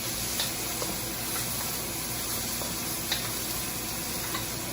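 Vegetables dropped into a pan for shrimp fried rice: a dense, continuous sizzle and frying hiss at steady volume, broken by a few faint clicks and taps, with no voices.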